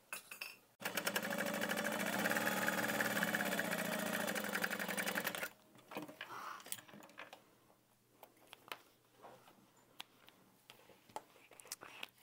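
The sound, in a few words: sewing machine stitching a tote bag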